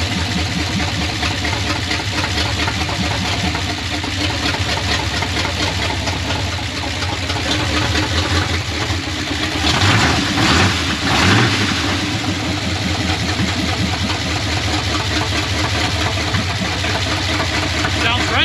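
Old square body truck engine running on a rebuilt carburetor, a loud steady idle with a brief rise around the middle, close by and continuous, with voices talking over it.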